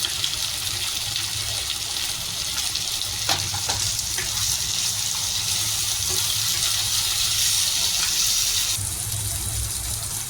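Three chopped tomatoes hit a pan of fried ginger, garlic and green chilli for begun bharta, raising a loud, steady sizzle and frying hiss, heard close up and continuous throughout.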